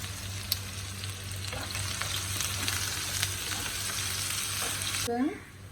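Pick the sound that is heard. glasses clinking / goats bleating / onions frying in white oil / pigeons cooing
onions frying in white oil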